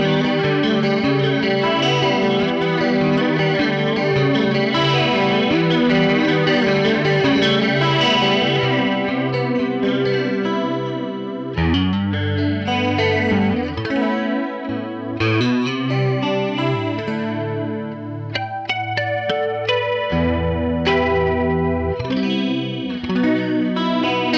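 Guitar played through a US Tweed Bass amp model with a Chief CE2W chorus pedal ahead of it and a little room reverb, ringing chords and sustained notes shimmering steadily, then broken into choppier phrases and single notes throughout, loud and upfront.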